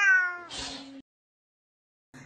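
A cat gives a drawn-out, clear meow, then a rough second yowl, followed by silence and the start of another meow at the end.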